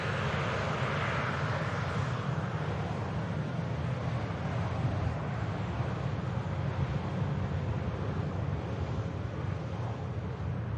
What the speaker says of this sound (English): they're going to take off right on this runway in front of us